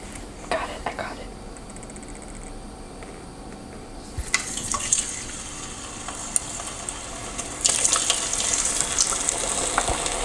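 French fries drop into hot oil and start frying, a steady hiss with clatter and stirring that swells into a louder, brighter sizzle toward the end.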